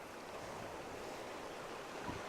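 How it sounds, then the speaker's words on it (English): A river flows through quiet Alaskan wilderness as an even, unbroken rushing wash, soft and constant, with no voices or other sounds. "Just the sound of the river."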